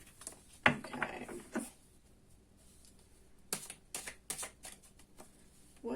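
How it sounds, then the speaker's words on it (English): Tarot cards shuffled by hand, giving a few short bursts of riffling and flicking separated by quiet pauses, close and fairly soft. "let's give everything a good shuffle"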